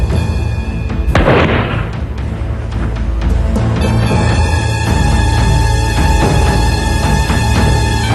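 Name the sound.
Bullanggi breech-loading cannon firing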